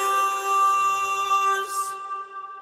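Synth lead bounced to audio and run through Valhalla VintageVerb at 100% wet: sustained bright layered tones held steadily and washed in reverb, then thinning into a decaying tail with no voices.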